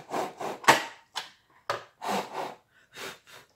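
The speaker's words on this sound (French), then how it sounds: "Un petit coup de soufflette" An air blower cleaning the inside of a switched-off Pfaff Element 1450OL overlocker sounds as a series of short, close hissing puffs in an irregular rhythm, separated by brief silences.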